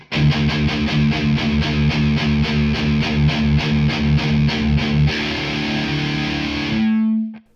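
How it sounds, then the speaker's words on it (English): Heavily distorted electric guitar with active humbucker and single-coil pickups, played through a distortion pedal, chugs in fast, rhythmic palm-muted bursts, then rings out on a sustained note before cutting off. "Now let's listen to this guitar and let's see how it sounds."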